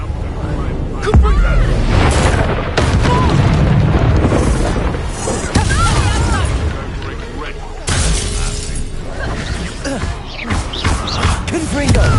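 A Confringo spell explosion in Hogwarts Legacy gameplay, with loud booming blasts and shattering bursts over a dense, continuous mix of game effects and music.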